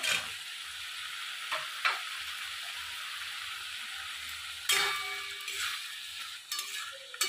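Fried eggplant is stirred into a frying fish curry made with fish gills and fish fat in a village Bengali kitchen, with a steady sizzle and occasional loud spatula scrapes and knocks against the pan.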